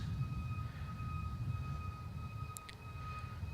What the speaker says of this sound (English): Malaysia 139 just starting its turn onto finals, about 3 to 4 minutes out